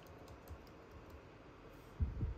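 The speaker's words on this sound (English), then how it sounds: "Under creators, I'll type in Peach." Keys tapped on a computer keyboard while entering a name into a search filter, a few soft quiet clicks followed by a louder, closer burst of typing near the end.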